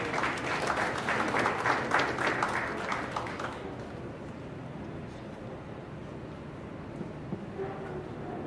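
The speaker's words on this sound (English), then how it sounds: "A big round of applause as Mukhtar comes up." Audience applause at the 2022 Most Influential Kenyan Muslims awards ceremony, a dense burst of clapping for the first few seconds that thins into a lower, steady murmur of room noise.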